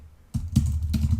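Several crisp computer keyboard keystrokes typing a search query, close and clear, with a brief quiet moment before the first key press and no talking.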